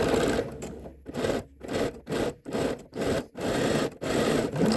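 A sewing machine stitches a swimsuit, running in short bursts of mechanical whirring. The bursts come close together, with brief pauses as the stitching starts and stops to back stitch. No one speaks.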